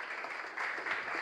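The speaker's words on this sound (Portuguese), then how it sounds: "Vamos aplaudir, né?" Audience applause at a talk, a brief burst of dense clapping that swells slightly toward the end.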